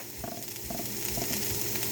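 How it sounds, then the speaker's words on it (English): Steady sizzling and crackling of eggs in a frying pan, with soft clinks of a utensil stirring, close and continuous. "I'm wondering if the sizzling of the pan is going to overpower my voice."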